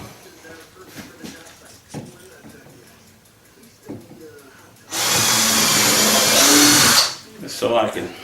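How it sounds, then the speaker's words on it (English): A power drill bores a hole in a wooden bandsaw sled used for resawing walnut logs, first with scattered knocks and handling noise, then a loud steady whine of about two seconds that stops abruptly, followed by brief clatter. "And I'm going to drill another hole"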